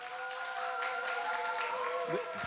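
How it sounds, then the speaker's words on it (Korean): An audience applauds at a live-streamed conference and report event, a sustained patter of clapping layered over steady sustained tones. "어느 때보다 큰 박수로 환호로 부탁드리겠습니다"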